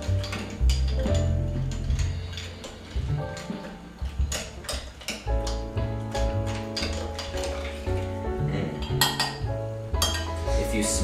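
Utensils clink against a bowl while food is mixed during home cooking, a busy run of close, bright metallic taps and scrapes in an irregular rhythm with no talk.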